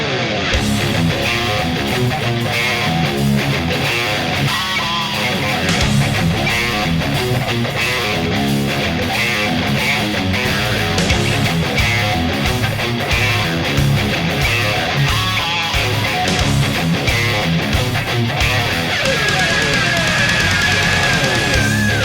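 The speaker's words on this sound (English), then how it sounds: "So now we lead into the main riff, and that sounds like this." Distorted electric guitar playing the main riff of a song, a dense, continuous and loud riff with steady driving rhythm, alone without talk.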